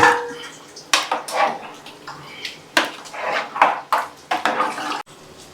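Raw fish pieces are mixed into a tamarind fish curry in a metal pot, giving irregular scraping clatters and clinks of a utensil against the pot, with short quiet gaps between the bursts.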